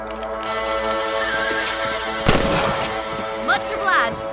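Horses in the Western video game Red Dead Redemption, a whinny and hoof sounds rising over a steady bed of game music and ambience, with a sharp gunshot-like burst midway and brief vocal sounds near the end.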